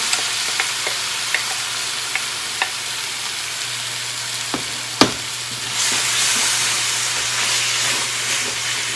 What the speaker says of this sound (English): put the sauce in here and let it simmer for a few minutes here